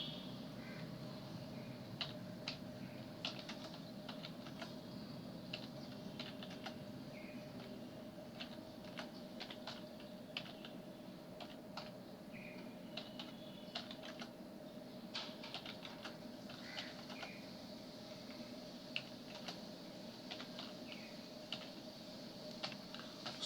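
Light, irregular keystrokes on a computer keyboard as text is entered, quiet clicks scattered over a steady low hum with no one talking.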